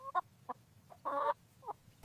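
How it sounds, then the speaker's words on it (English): Short, separate clucks from a chicken, about five of them in an irregular rhythm, each brief except one longer squawk-like cluck, heard fairly close and alone. "Look, the chickens are here."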